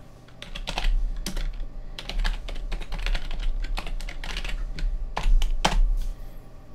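Rapid typing of a command on a computer keyboard while setting up MicroPython on a Pimoroni Pico Explorer board, with close, irregular clusters of key clicks and a few louder strokes, no voices.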